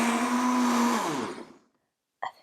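A kitchen blender whirs loudly while blending hazelnuts for homemade hazelnut milk, its motor pitch dropping as it winds down and stops, followed by silence and a brief faint knock.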